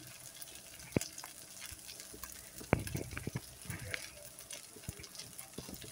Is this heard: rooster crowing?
no